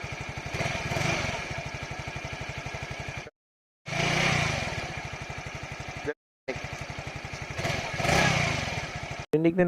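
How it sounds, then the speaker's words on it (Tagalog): A Suzuki SkyDrive Crossover scooter idles and revs through its stock muffler, close by, with a steady putter and a few throttle swells. The sound is broken by brief edits into silence, and faint talk may sit underneath. "Pakinggan muna natin ang stock muffler niya mga paps."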